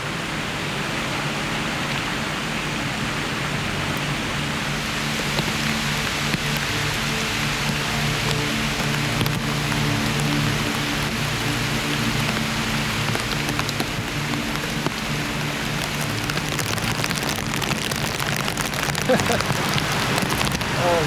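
Rain falling on a survival shelter on a shipwreck island at night, a steady dense hiss of rain on the surface throughout, loud and close, with no letup.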